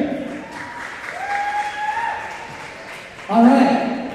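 Participants at a 2013 DCI Guinness World Record event clap when asked, a light scattered round that swells near the end, with voices and a speaker's tones mixed in.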